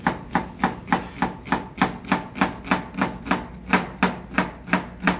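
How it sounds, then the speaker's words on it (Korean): Onion minced with a knife on a board: a fast, even series of about twenty crisp chops, close and steady, with no voices. "양파는 다져요."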